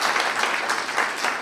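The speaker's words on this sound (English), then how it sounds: "let's give a big round of applause for Nate" A short burst of applause at a radio club's monthly meeting for a door prize donor, a dense clatter of many hands in a room, steady and fairly loud for about a second and a half.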